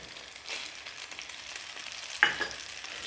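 Pasta and cream cheese are stirred together in a pan, giving a soft, close sizzle with scraping stir sounds and a sharper clatter near the end, no voices.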